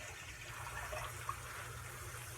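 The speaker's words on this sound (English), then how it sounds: "Got to add water, of course." Water pours steadily into a cooking pot, a continuous close splashing rush that holds level from start to finish, alone without any talking.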